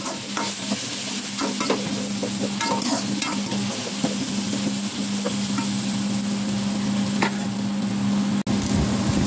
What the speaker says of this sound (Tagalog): ngayon ay iprito naman natin ng bahagya ang ating carrots at patatas